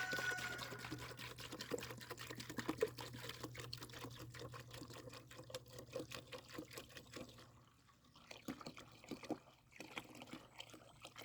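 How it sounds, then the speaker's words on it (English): Water pours into a chicken waterer in winter, a faint trickling and dribbling stream with small clicks and knocks, steady at first, then pausing briefly and resuming, over a low hum. "So then I just fill this with water."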